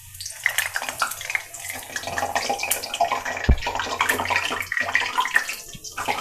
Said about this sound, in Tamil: நம்ம இப்போது செஞ்சு வச்ச பூரியை போட்டு ரொம்ப முருகலாக பொரிய விடக்கூடாது.